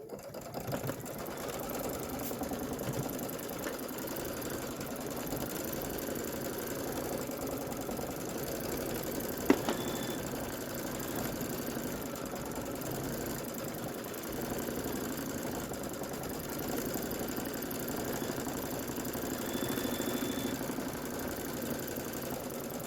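A sewing machine quilting a pillow top, its motor and needle running in a long, steady, even whir with one sharp click partway through, and no voices.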